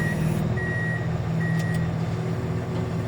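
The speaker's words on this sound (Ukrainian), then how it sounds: "І тут машина зараз туди заїде під нього" A truck reverses during unloading work, its backup alarm sounding a steady series of loud, evenly spaced high beeps over a constant low diesel engine rumble, with no talk.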